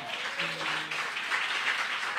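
A church congregation claps together during a worship service, a brief, steady wash of applause at moderate distance, with a faint sustained tone beneath the clapping.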